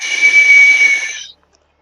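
A person imitates an elk call: one loud, sustained, breathy whistle that holds steady for over a second, then cuts off into silence.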